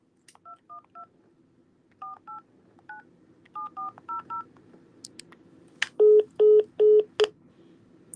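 A phone number is keyed in on a touch-tone telephone: short paired beeps come in quick clusters, followed by a final run of louder, evenly spaced tones, with no speech.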